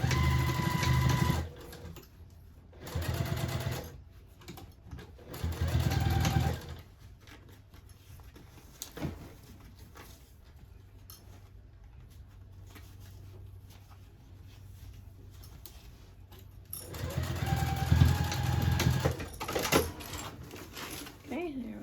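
A sewing machine stitches a tote bag seam at a 5/8 inch allowance in several short bursts, loud and close, with quiet gaps between runs and a voice talking in the pauses.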